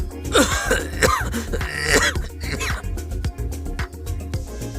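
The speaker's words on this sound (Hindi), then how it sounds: "वो जोर जोर से खांसने लगे" A series of harsh, loud coughs and throat-clearing bursts, repeated in quick succession, close to the listener.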